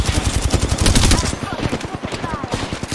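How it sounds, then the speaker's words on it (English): Rapid automatic gunfire rattles loudly through a video game battle, a dense stream of shots over three seconds with some voice mixed in. "They spotted me. I'm taking shots."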